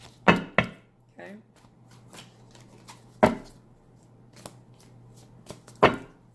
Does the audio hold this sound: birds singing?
no